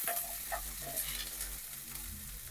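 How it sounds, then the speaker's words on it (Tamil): Ginger, garlic and onion sautéing in hot oil give a steady close sizzle with occasional stirring scrapes, continuous and even throughout without any voices. "கொஞ்சம் வதக்கிக்கலாம்."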